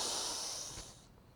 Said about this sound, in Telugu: కంప్లీట్గా శ్వాసను వదిలిస్తున్నాం.